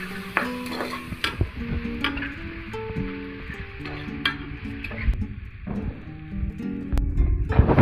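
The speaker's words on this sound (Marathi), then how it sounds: "चांगल्या प्रकारे हलवून ढवळून घेते ते" Chicken biryani being stirred in a pot at home, with steady scraping and clinking of a spoon against the metal and a soft sizzle beneath, close and moderately loud, with no talking.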